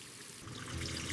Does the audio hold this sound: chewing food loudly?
no